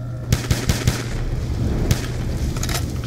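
Gunfire in the Black Ops 2 video game: a quick series of sharp shots in close succession, then one more crack a moment later, all over a noisy game backdrop.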